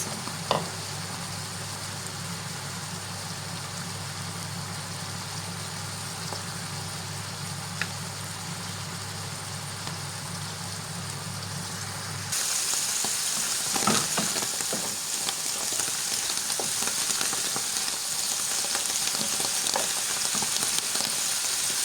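Chicken-of-the-woods mushrooms fry in a pan with a continuous soft crackling sizzle, which suddenly grows louder and brighter about halfway through. There are no voices.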